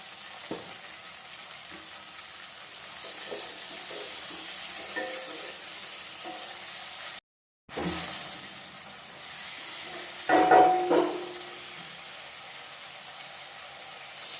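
Chopped onions and tomatoes sauté in a pan for a sundakai dish, giving a steady close sizzle and hiss, a brief silent break midway, then a louder burst of stirring and scraping near the end.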